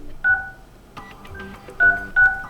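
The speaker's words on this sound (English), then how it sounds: "you have to open your phone dialer, go to keypad, and now it's time to enter the first secret code" Keypad dialing tones on a Blackview BV9700 Pro phone as a secret code is entered: a series of short, close, clear beeps at uneven intervals, some brief taps and a few longer held tones, with no talking.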